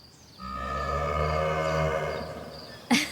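A single long, deep cow moo from the game Star Citizen, sustained and clear with no talking, ending in a short sharp noise.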